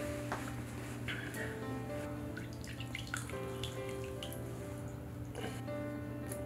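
A quarter cup of water is poured into brownie mix in a kitchen, a soft, close, splashing trickle over a steady low hum.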